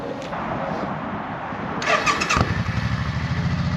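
A Suzuki motorcycle with white-wall tires and about 39,000 miles cranks over briefly, then fires and settles into a steady, close, loud idle with no talking.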